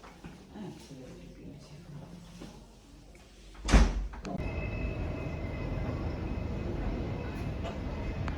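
A door is opened on a holiday trip in Tenerife during a severe wind warning, giving a sharp loud clunk midway, after which a steady rush of wind and outdoor noise floods in; faint voices murmur beforehand.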